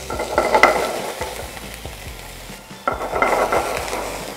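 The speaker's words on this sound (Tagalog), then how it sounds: "Kita nyo, maririnig nyo mag-sizzle siya." Chicken liver and gizzard sizzle in hot oil in a pan, with bursts of frying crackle and occasional stirring scrapes, loudest near the start and again after a short lull.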